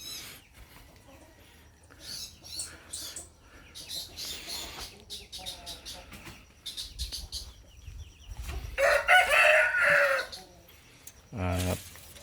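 Brahma chickens in a backyard flock cluck and call intermittently, with a rooster crowing loudly near the end, amid soft background chirps and sparse rustling.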